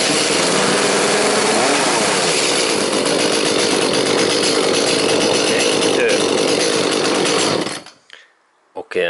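An Echo ES 352 chainsaw engine runs loud and close with a steady, buzzing drone for most of the stretch, then cuts away abruptly near the end, leaving only brief faint sounds.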